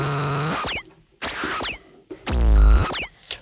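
Sherman Filterbank run with no input, self-oscillating feedback noise: wild bursts of squealing, swooping tones and rumbling growls in separate loud blasts with gaps between, no voices.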